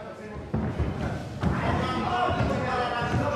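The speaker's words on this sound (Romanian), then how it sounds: "A încercat un middle kick, încă un middle kick." Two heavy thuds of middle kicks landing in a kickboxing fight, spaced about a second apart, under continuous excited commentary and crowd noise.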